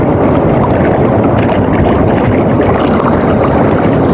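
Strong amihan wind at sea heard from a boat in big waves, a loud, constant roar of wind and rushing water battering the microphone, with no let-up and no voices.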